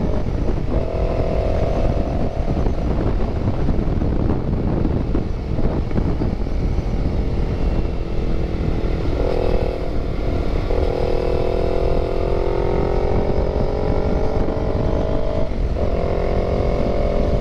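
A Honda CB150 motorcycle engine drones steadily while riding on the road, a loud continuous hum with gear shifts in the pitch and constant wind rush over the microphone, with no talk.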